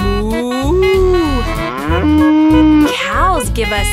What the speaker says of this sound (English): This is the cow. She goes moo.